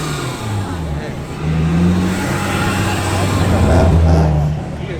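At a car meet, a car engine revs and drones close by, building louder through the middle as the car spins its tyres, with a crowd chattering underneath.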